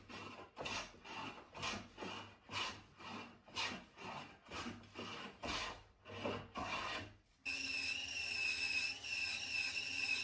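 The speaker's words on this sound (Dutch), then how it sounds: "Om vervolgens tot rechthoekige blokken en planken te worden geschaafd." Rough wood being hand-planed into rectangular blocks and boards for violin making, heard as a steady series of rhythmic rasping strokes, then a continuous loud machine whine takes over near the end; no talking.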